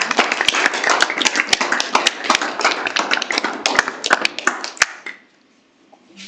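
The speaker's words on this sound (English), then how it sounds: "Please, a round of applause again for it." Audience applause after an undergraduate math society seminar talk, a dense burst of close hand clapping from a small group that fades out abruptly near the end.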